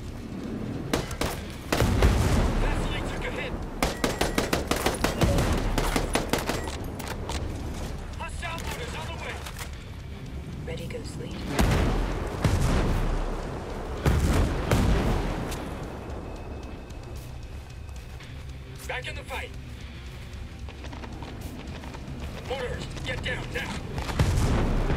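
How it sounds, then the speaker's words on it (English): Mortar fire and heavy explosions in the video game Ghost Recon Breakpoint, a series of loud booming impacts and thuds with several big blasts spread across the stretch over continuous battle noise. "With mortars."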